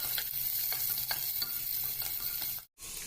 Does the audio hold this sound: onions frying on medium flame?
yes